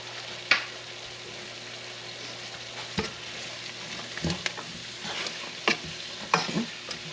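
Onions and celery sizzle softly in a pan while a utensil stirs them, leaving sharp scrapes and taps at irregular intervals over a low, continuous frying hiss, close by with no talking.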